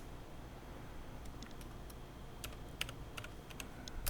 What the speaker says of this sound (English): type list volume,